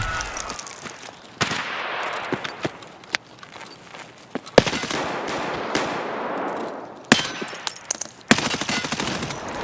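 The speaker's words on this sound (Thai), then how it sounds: "ปืนที่ใช้ก็ยังคงเป็น M4 โลคู่ใจเหมือ นเดิม" M4 rifle gunfire in the video game Escape From Tarkov, with several sharp bursts and single shots at irregular intervals against a noisy outdoor game background.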